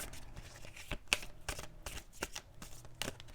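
Tarot cards shuffled by hand close up, a quick series of soft riffling flicks and slaps in an uneven rhythm, quiet and alone without talk.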